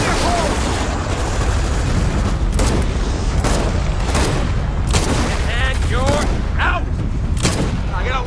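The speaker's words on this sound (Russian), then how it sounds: "Кинул гранату, гранату кинул!" Grenade blast and gunfire in the Gears of War 4 video game, a dense continuous barrage of booming explosions and rapid shots filling the whole stretch at steady loud level, with voices faintly mixed in.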